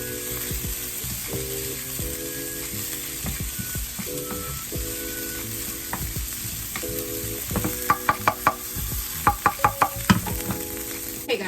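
Sesame pasta sauce with chicken fries in a pan under a continuous loud sizzle while a utensil stirs it, and a run of sharp clicks and scrapes against the pan comes in the second half. No one speaks.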